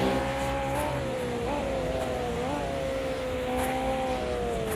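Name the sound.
racing cars downshifting, video game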